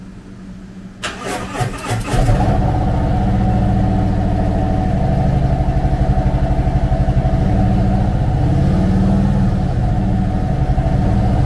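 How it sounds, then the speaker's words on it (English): A 2018 Harley-Davidson Ultra Limited with a 107 cubic inch V-twin cranks briefly, fires up loudly and settles into a steady, throbbing idle that runs close and unbroken. "Powered by a 107 cubic inch V-twin motor, the Electra Glide puts 90 horsepower and 112 foot-pounds of torque through a 6-speed transmission."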